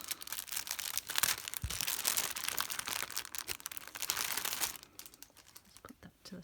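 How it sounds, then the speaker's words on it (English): Cellophane packaging crinkles close up in continuous dense rustling bursts, then tapers to a few softer crackles at the end. "Apologies for the crinkling of the cellophane."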